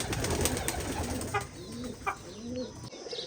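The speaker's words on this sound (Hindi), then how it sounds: "मेरे फेवरेट जो ये वाले दो कबूतर है ना, ये वाले दोनों इधर ही बैठे होते हैं" Pigeons coo softly nearby in a cage in a few low, throaty murmurs, with some faint rustling and shuffling around them.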